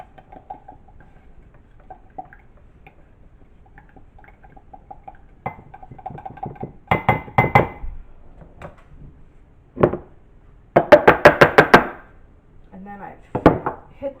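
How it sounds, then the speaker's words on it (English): Tomato and smoked jalapeno powder scraped out of a container, heard as a few soft scrapes followed by louder bursts of rapid scratching and tapping, close by, with no talk. "I'm going to go ahead and scrape this out so I can get all that goodness in there"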